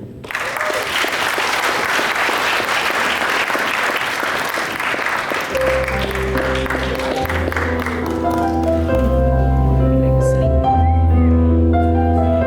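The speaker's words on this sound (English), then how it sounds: "let's give a big round of applause for Divya." An event audience breaks into loud, sustained applause with dense clapping for about five seconds, then music with a steady beat and tones takes over and plays on at full volume.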